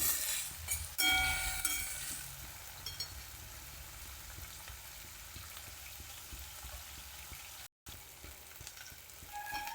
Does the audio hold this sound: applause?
no